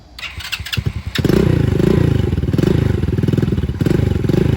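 A small carbureted Kymco scooter engine, run without its muffler, sputters a few times, catches, then settles into a steady, loud, pulsing idle close by.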